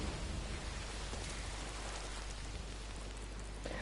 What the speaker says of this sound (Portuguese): se eu olhar por cima começa a chover na câmara